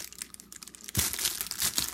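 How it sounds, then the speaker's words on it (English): Crinkly plastic wrapping of a package of Australian candy being handled, starting soft and sporadic then bursting into loud, continuous crackling and crumpling close by. "Sorry about the rustling."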